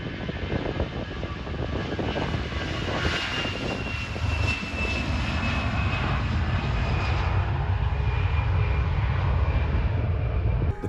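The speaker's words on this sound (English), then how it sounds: "The passenger plane almost made a landing, but ended up crashing into the lagoon." Passenger plane engines roar during a landing approach in fog, a loud continuous drone with a rising whine sustained throughout.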